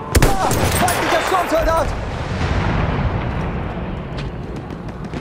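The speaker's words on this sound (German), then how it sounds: "Maschinengewehr, eindeutig feindlich!" Machine gun fire in the video game Battlefield 1, a sharp opening crack followed by a rumbling barrage of shots and explosions that fades into a lingering roar, with a voice shouting over it.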